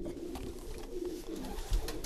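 A breeding pigeon, a female racing bird kept by a Romanian fancier, coos softly at close range, low throaty murmurs repeating over faint loft noise.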